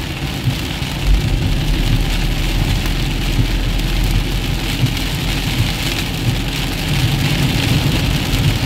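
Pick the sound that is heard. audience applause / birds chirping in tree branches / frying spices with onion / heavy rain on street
heavy rain on street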